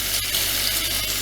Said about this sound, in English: And then I just stir it around